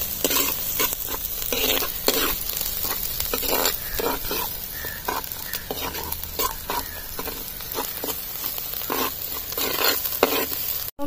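Shallots, garlic, ginger and green chilies fry in a pan for a fish curry, a steady close sizzle broken by repeated scraping stirs.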